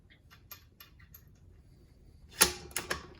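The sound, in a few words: rifle bolt closing on headspace gauge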